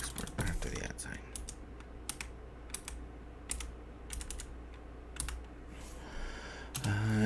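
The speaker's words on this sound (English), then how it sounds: "I forgot to type in export after the @ sign." Quick bursts of typing on a computer keyboard, with clusters of crisp key clicks spread unevenly over a steady room hum and a louder thump near the end.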